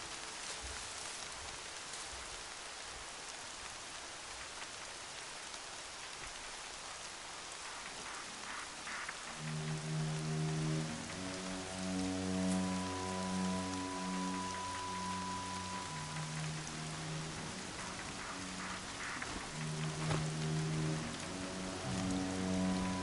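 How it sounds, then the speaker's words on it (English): Steady rainfall in the video game Horizon Zero Dawn, a dense even hiss of drops heard alone for over twenty seconds while a soft musical score with sustained tones rises beneath it. "Rain's not so bad."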